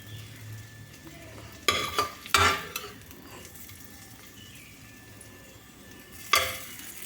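Lightly fried capsicum and onion scooped from a pan into a bowl: a few sharp utensil scrapes and clinks against a faint background sizzle, with quiet gaps between strokes.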